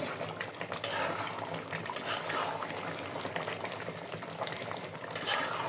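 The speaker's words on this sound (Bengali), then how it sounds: "আস্তে আস্তে লেড়ে লেড়ে রান্না করে নেবো" Chicken cooking in a pan over raised heat is stirred slowly and continuously, giving a steady bubbling sizzle with soft scraping strokes and no talking.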